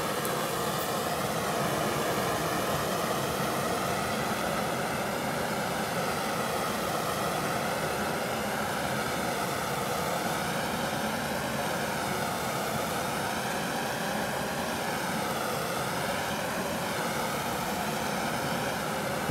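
A torch flame roars steadily while heating the wooden ramrod of a Traditions Kentucky muzzleloader pistol kit, a constant loud broadband hiss lasting throughout with no pauses.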